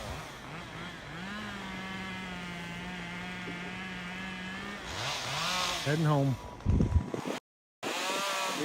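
Chainsaws cutting trees while clearing a lava-blocked road in Leilani Estates, a steady engine whine running several seconds then revving in bursts, with someone talking over it and a brief dropout near the end.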